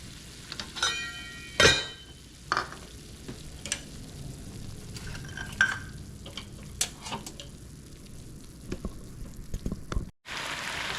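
Vegetables and bone broth cook in a pan with a quiet sizzle and scattered pops and ticks, plus occasional sharp clinks of a utensil. It stays close and fairly soft, with no talk.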